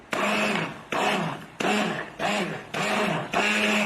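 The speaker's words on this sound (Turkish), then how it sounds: "Blenderla çekiyorum." A blender purees cooked soup in six short bursts, each starting abruptly and running under a second, loud and close with brief gaps between.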